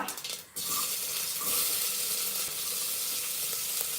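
Mustard and cumin seeds sizzle loudly in hot oil, a sudden dense crackling burst after a brief quieter moment, then a steady close hiss that holds for the rest with no talk.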